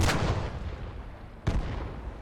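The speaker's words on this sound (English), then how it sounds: "And another explosion." Two sharp blasts in a World War II armored-combat video game, one at the start and another about a second and a half later, loud and close over a rumbling battlefield backdrop.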